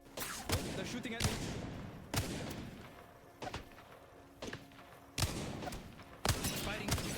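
Sporadic gunfire in the Apex Legends battle royale game: a handful of sharp, separate shots spaced a second or so apart over a low, rumbling game backdrop.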